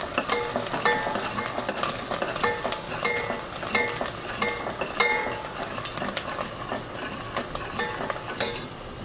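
Onions fry and are stirred in a pan for a Punjabi chana dal, a busy crackling sizzle with frequent spatula scrapes and light metallic clinks, fading slightly at the end.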